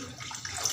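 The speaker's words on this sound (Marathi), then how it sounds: "एवढं पाणी टाकलं" Water is poured from a glass into a cooking pot of roasted masala for a home-style fish curry, a steady faint splashing stream close by.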